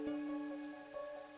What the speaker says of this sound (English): No one knows why the rain never lets up.